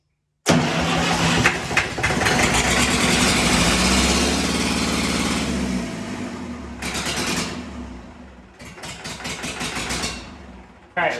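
A 50-year-old Massey Ferguson utility tractor, running on starting fluid with the throttle held down, cranks and catches at once. Its engine revs up loud and close, holds a rough, pulsing roar, sags, then picks up again near the end.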